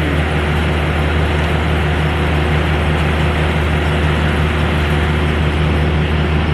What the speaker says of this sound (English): there's a giant refrigerated truck that just feels the need to run its